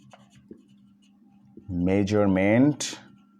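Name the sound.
writing on paper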